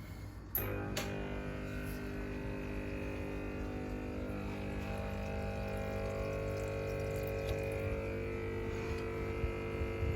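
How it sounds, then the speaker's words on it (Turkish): An aquarium air pump hums steadily while driving a sponge filter, its motor drone and layered harmonics running continuously under a soft bubbling wash of water. "Öncelikle hava motorumu hemen çalıştırayım."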